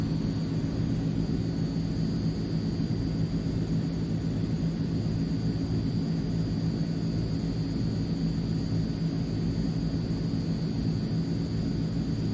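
Inside a Transall cargo plane in a flight simulator game, the engines hold a steady, dense, broadband drone with a faint high whine, unbroken and fairly loud for twelve seconds with no speech.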